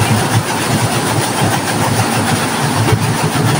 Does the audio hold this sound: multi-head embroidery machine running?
yes